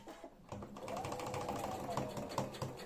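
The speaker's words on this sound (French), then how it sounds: "on va simplement rabattre la ceinture donc sur le zip et coudre le long de celui-ci" Domestic sewing machine stitching a trouser waistband down along a zip, a steady rapid mechanical whirr with a fast needle rhythm that runs almost the whole time and stays close and moderately quiet.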